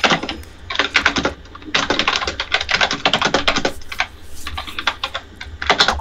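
Bursts of rapid typing on a computer keyboard, close and loud, with clustered keystrokes separated by short pauses and no talking.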